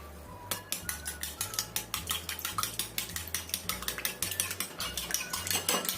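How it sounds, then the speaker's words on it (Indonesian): Utensils clink and scrape steadily against a bowl in a quick repeated rhythm, close up, stirring eggs with seasoning and powdered broth, with no talking. "Kemudian kita aduk sampai tercampur rata."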